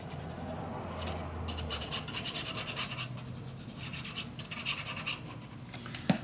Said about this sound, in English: And when I am satisfied, then I burnish it down.